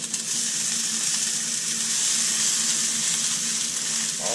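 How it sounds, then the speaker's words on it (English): Steady, loud sizzling of alligator sausage and peppers frying on a hot preheated griddle, a continuous crackling hiss with no voices. "We got this baby preheated, and you can hear that sizzling."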